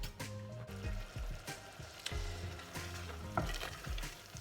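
Oysters cooking in a pan over low heat with spicy kimchi, a quiet sizzle with intermittent stirring and scraping sounds, fairly close and soft, no voices.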